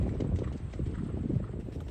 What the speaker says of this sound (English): A wee snapshot of Boss, the 4-year-old warm blood's first ride with us. Very nice canter.